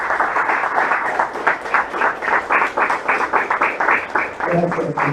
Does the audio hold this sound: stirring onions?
no